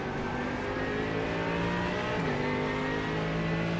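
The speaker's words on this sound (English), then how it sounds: "I just don't like the engine sound effect. It sounds horrendous." Corvette engine heard from inside the car in the iRacing sim, a loud steady droning tone holding near-constant revs, dipping briefly as a gear shifts, with no talking.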